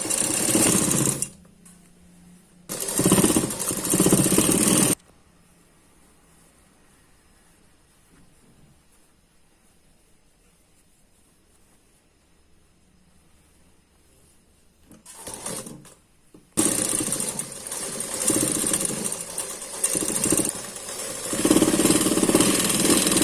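Sewing machine stitching a 1-inch border onto the side of a katori blouse, running in two loud bursts of steady whirring separated by a long quiet stretch with only faint background noise.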